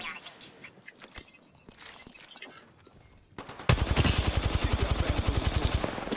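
Sustained rapid automatic gunfire in Apex Legends, aimed at a decoy: loud, dense bursts of evenly spaced shots dominate the second half after scattered single shots and game noise earlier, with a voice talking over it.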